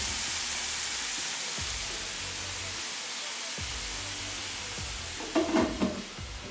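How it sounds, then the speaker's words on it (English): Pork bacon and hash browns frying together in an oil-free pan at home, a steady broad sizzle with a few soft scraping stirs near the end, close and constant. "So now I have my bacon on, I have my hash browns going."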